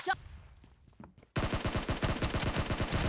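Automatic gunfire in the battle-royale game PUBG: after a quiet stretch, a loud, sustained volley of rapid, evenly spaced shots erupts and keeps going to the end.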